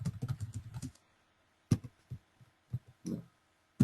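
A computer keyboard being used to type a search, with a quick burst of close keystrokes followed by a few scattered single clicks and pauses, quiet and alone.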